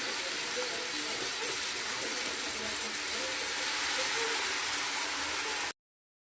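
Poppy seed paste hitting a hot pan of tomato and green chili sets off a steady, loud sizzle and hiss that runs unbroken for about six seconds, then cuts off abruptly.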